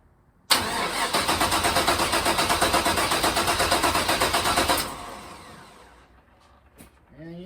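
A car engine, an LS V8, cranks over on a weak battery with a steady, labored chugging rhythm for several seconds, then stops without catching, leaving near silence.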